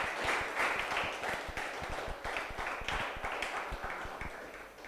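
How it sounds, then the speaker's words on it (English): An audience at the closing ceremony of a Windward Islands under-15 cricket tournament breaks into applause, a dense patter of many hands clapping at moderate distance for about five seconds, fading slightly toward the end. "So I'd like everybody to give him a round of applause."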